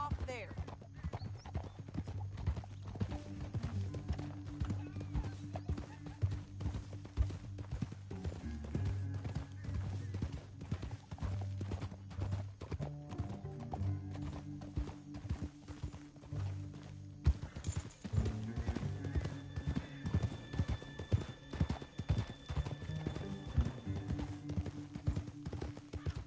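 Steady clip-clop of horse hooves trotting throughout, with voices talking over the hoofbeats and an occasional whinny, in the video game Red Dead Redemption.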